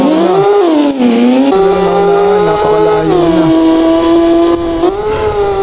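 MotoGP racing motorcycles in a Roblox game scream loudly in high revving engine tones, with pitch rising and falling as they shift, a second bike droning lower underneath, and a brief spoken remark.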